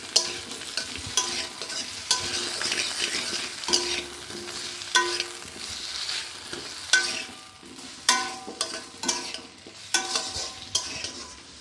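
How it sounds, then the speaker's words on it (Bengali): Potato and sweet pumpkin pieces sizzle and crackle loudly in hot oil, broken by regular scraping stirs of a spatula against the pan every second or so, close and with no talking. "এই যে আলু আর মিষ্টি কুমড়ো ভাজতেছি"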